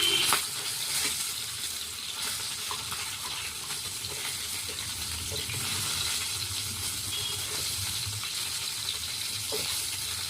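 Fish sizzles steadily in hot oil in a small karahi, a continuous crackling hiss with occasional small pops, fairly close and without speech.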